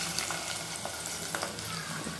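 Raw prawns simmer with tomato and coconut milk in a pan, a soft, continuous bubbling sizzle with a few faint clinks and scrapes scattered through it, quiet and close.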